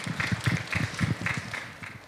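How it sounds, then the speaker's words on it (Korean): A church congregation clapping during a Korean worship service, a steady rhythmic pattern of claps in even beats, moderately quiet with light room reverberation. "하나님께 영광의 박수 돌리겠습니다."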